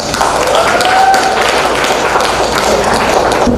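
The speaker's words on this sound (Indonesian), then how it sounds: "itu tepuk tangan jawabannya." Classroom of children clapping hands together during a school lesson, a dense continuous patter of claps filling the room, fairly loud and steady throughout with faint voices mixed in.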